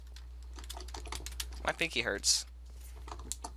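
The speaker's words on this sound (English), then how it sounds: "You're probably just gonna hear in my video just all the keys," Computer keyboard keys clatter rapidly and steadily while gaming in Minecraft, with hard presses on the shift key, a near, busy patter running under a brief spoken remark.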